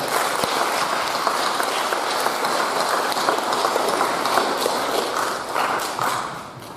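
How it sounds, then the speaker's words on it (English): A dense, loud round of applause fills a school moving-up ceremony for elementary students, holding steady for several seconds and easing slightly at the end. "I'd like to give everyone a round of applause right now"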